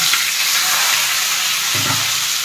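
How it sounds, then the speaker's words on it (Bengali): Potatoes fry in oil tempered with cumin and dried red chilies for a plain potato curry, a loud, steady close-up sizzle with a brief surge of bubbling, no voices. "এরপর ফোড়নটা ভাজা হয়ে গেলে আমি আলুগুলো ঢেলে দেব"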